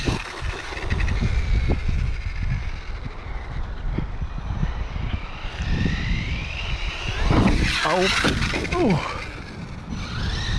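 An Axial Ryft RC crawler truck drives and bashes over rough ground, its electric motor whining and drivetrain rattling in steady bursts, with scraping impacts that rise around the middle. A voice briefly exclaims.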